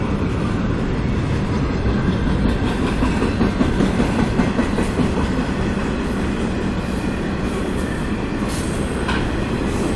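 The tail end of a CSX freight train rolls past near Folkston, a loud, continuous rumble of cars with rhythmic wheel clatter and occasional faint squeals, steady throughout.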